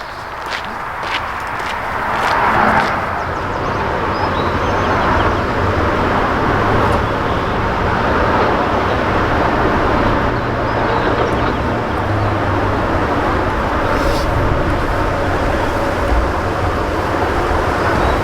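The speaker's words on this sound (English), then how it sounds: "Even though the highway noise is really loud here at Somenos Marsh" Loud highway traffic roars steadily near Somenos Marsh, a dense wash of passing vehicles close by, with a few birds chirping faintly above the constant road noise.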